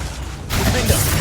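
A Confringo blasting spell explodes in the Hogwarts Legacy video game. A sudden loud, broad burst halfway through gives way to a crackling, rumbling blast over deep low thumps.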